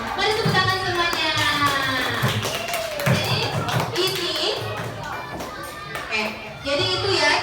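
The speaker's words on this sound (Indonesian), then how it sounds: "Mari tepuk tangan semuanya." Schoolchildren in a fifth-grade classroom clap their hands together in a brief burst of scattered claps, with the teacher's voice talking over it.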